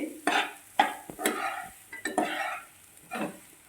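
Cooked rice being stirred in a hot pan over medium flame while making curry leaf rice: a series of separate scraping, shuffling strokes of a spoon, each with a soft sizzle, close by and irregularly spaced.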